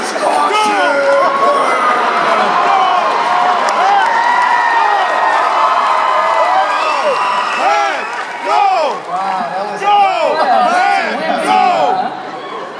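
A large live audience at a cast-and-creators panel evening cheers, applauds and chatters loudly and continuously, with whoops rising over the crowd noise toward the end.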